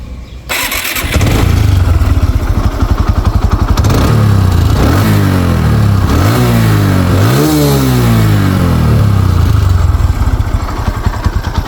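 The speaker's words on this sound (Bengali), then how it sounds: "গাড়িটা যদি স্টার্ট করে সাউন্ড কন্ডিশন দেখাই" A TVS Apache RTR 160cc motorcycle engine cranks and fires, then idles loudly close by while the throttle is blipped in several rising and falling revs, with no voices over it.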